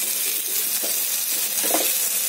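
Goat brain frying with sautéed onions in a pan, a steady close sizzle with a few soft scraping stirs near the middle and end, no voices.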